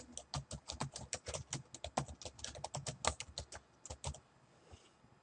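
Rapid, uneven clicks of keys being typed on a computer keyboard, close and fairly quiet, in bursts for about four seconds before trailing off.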